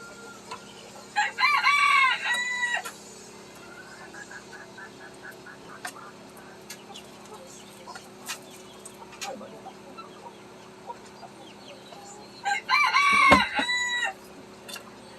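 A rooster crows twice, once near the start and again near the end, with quieter clucking and bird chatter in between.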